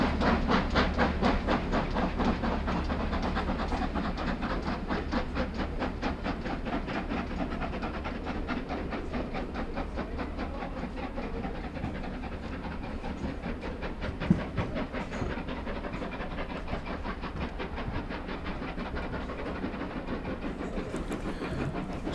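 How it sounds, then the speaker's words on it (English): Double-headed steam train with dining cars on the West Somerset Railway, running toward Minehead during an autumn gala, a steady rhythmic chuffing and rail clatter that stays loud and continuous throughout, with no talk. "This is another double-headed train heading in the direction of Minehead"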